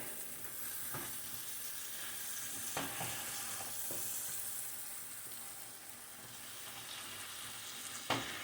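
Steady, close sizzling and frying with occasional sharp clinks and scrapes as clams and vegetables are stir-fried in a pan, no voices.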